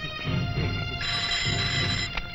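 A telephone rings in a domestic scene, giving a steady electronic trill that runs for about two seconds and briefly grows brighter and louder partway through, with no voices over it.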